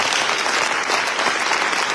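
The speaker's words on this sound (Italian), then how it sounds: "Facciamo un applauso a Gesù." Applause from a church congregation during a sermon, a steady, dense clatter of many hands clapping continuously throughout without a break.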